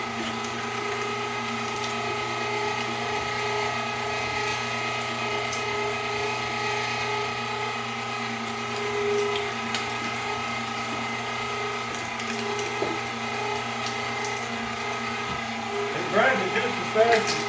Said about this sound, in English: We're just going to let the grinder do the mixing.